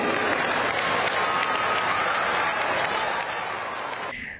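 An audience at a BJP political gathering in Bhavnagar claps in sustained, dense applause, loud and close, tapering slightly near the end.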